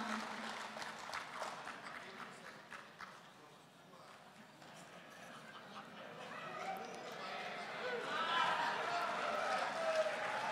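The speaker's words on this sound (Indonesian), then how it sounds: "Kita berikan tepuk tangan sekali lagi Bapak Ibu kepada lulusan terbaik Akademi Demokrat Angkatan Pertama" An audience at a graduation ceremony for the first class of Akademi Demokrat claps for the top graduates, steady applause from a large crowd that swells toward the end, with a voice on a PA speaking over it.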